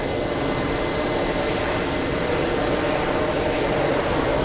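A big Delta Air Lines jet airliner arrives at JFK from San Francisco, its engines producing a loud, continuous roar that holds steady throughout.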